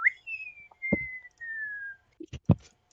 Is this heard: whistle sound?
yes